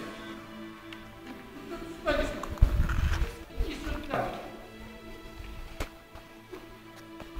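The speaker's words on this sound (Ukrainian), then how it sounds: "Як чуєте по звукам, багато людей ходить." Footsteps and shuffling from several people moving around in an echoing space, with muffled voices and knocks, louder in the middle then fading.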